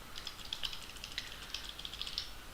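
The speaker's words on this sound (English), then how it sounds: "let me type something here." Typing on a computer keyboard, quick irregular key clicks in a short burst, close but quiet, with no talking.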